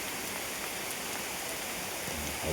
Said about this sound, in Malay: Hujan pula tu.